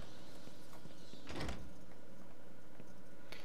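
A door opens in the video game Batman: Arkham Asylum, a single brief mechanical swish over a low ambient game hum, with a faint clank a couple of seconds later.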